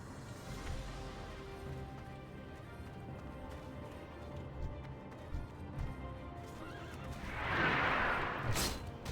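Horses in World of Warcraft Classic neigh and whinny, hooves clopping steadily beneath, with a loud shrill whinny rising near the end.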